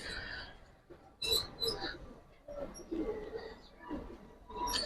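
Giribaz Silver Army pigeons coo in soft, low bursts close by, with rustling and some background noise between calls.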